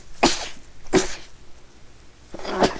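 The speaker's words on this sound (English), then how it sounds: "Sneeze again." Three sharp sneezes burst out one after another, each a loud, explosive blast separated by brief pauses, close by and with no talking.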